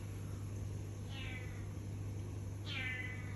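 A pet cat meows twice indoors, each call a short descending mew, the second louder and longer, over a steady low electrical hum.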